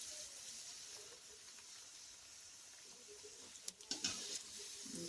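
Methi vada fritters deep-frying in hot oil, a soft steady patter and hiss of bubbling throughout, with a few sharper pops and crackles near the end.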